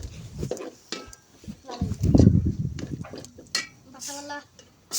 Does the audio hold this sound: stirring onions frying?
yes